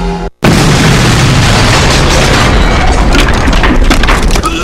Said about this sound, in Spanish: Él sobrevivió a la explosión de su bodega donde guardaba químicos.